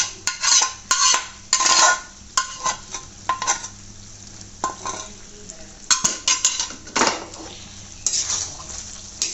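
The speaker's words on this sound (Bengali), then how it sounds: "এখন এটাকে আমি ভালো করে নেড়ে চেড়ে দেবো।" Beef kala bhuna being stirred in a pot with mustard oil, a spoon scraping and clanking against the metal in quick bursts over a low sizzle, close and loud, no talking.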